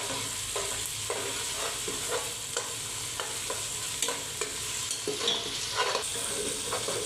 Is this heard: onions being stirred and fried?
yes